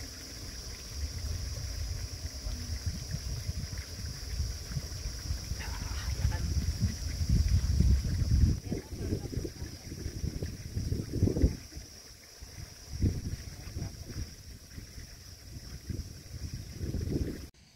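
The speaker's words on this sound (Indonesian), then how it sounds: "anginnya masih kenceng" Strong wind gusts at a campsite in a tea plantation, with steady low rumbling buffets and a constant high whine in the background.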